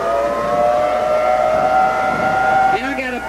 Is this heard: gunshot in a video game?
no